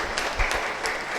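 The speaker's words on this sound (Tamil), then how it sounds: "அவர் இங்கு வந்ததற்கு நாம் எல்லோரும் ஒரு முறை அவரை கைத்தட்டி அவரை வரவேற்போம்" An audience at a devotional lecture event in Neyveli applauds to welcome a speaker, a dense, steady wash of clapping from many hands with no talk.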